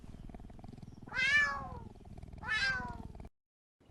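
An Oriental Shorthair cat gives two clear, close meows about a second apart, each rising and then falling in pitch, with a quiet low hum beneath them.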